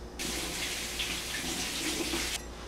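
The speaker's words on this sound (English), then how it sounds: "remember to wash the tomatoes" Tap water runs steadily into a sink while cherry tomatoes are rinsed, a continuous close hiss and splash starting abruptly and stopping just before the end.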